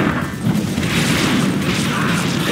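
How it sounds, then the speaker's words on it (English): A dense, sustained roar of explosions and crashing mechanisms fills a battle in the strategy game Command & Conquer 3: Kane's Wrath, with a Tiberium blast amid loud, continuous combat noise and faint voice-like announcements. "Tiberium explosion detected."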